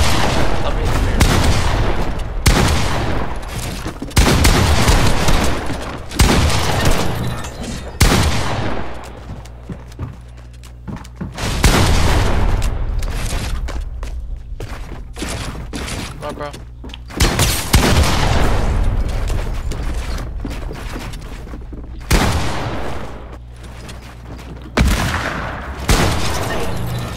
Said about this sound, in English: They just shot, bro.